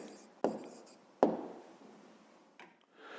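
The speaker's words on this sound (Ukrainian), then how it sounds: "пишемо відповідь" A pen writes an answer on paper, giving a few close scratchy strokes, two with sharp starts that fade out, and a softer stroke near the end.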